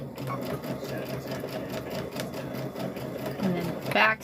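Sewing machine back stitching fabric for a Halloween trick-or-treat bag, a steady close mechanical whir with rapid needle rhythm running throughout, under faint background voice, a brief louder burst near the end.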